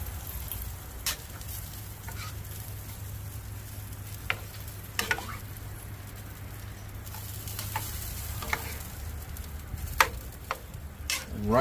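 Pulled pork stirred in a pot, a soft steady sizzle and bubbling with occasional scrapes and clacks of a utensil against the pot, fairly quiet and close, with no talking.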